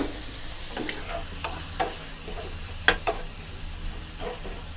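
Shrimp stir-fry and sizzle in a hot pan, a steady hiss broken by repeated scraping stirs and light clinks close by.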